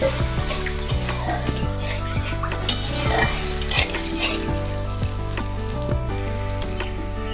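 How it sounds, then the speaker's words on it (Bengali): Water poured into spice masala frying in a pan for an egg curry brings a loud, continuous sizzle and bubbling that stays dense and steady throughout, with no talk. "এবার আমি একটু জল দিই।"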